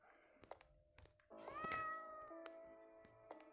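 A cat meows in the video game Cat Freed, with one drawn-out, clear meow after a few soft clicks and taps, standing alone against quiet game ambience.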